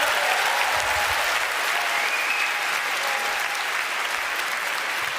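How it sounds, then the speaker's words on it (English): Sustained, dense crowd applause fills a hall at a live 2016 debate between Steve Bannon and David Frum, continuous and fairly loud throughout. "A big round of applause for the Toronto Police Services this evening."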